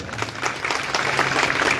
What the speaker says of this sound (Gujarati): એકવાર જોરદાર તાળીઓ પડે